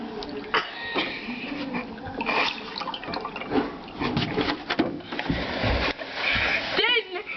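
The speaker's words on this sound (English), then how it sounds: "take the milk, pour it in the cup" Milk is poured into a cup, giving a splashy, trickling pour that runs close and fairly steady, with a voice speaking over it.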